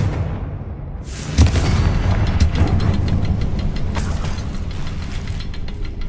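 Confringo fire spell blast in the video game Hogwarts Legacy: a sharp burst at about 1.4 seconds, then a dense crackling, rumbling roar that holds loud and steady, with clicking mechanical textures mixed in.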